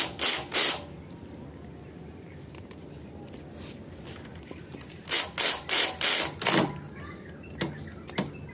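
A ratchet tightens the mounting screw on a Yamaha Ego LC 125 rear shock absorber, giving two short bursts of close, rapid clicking strokes separated by a pause with faint handling noise and a little talk.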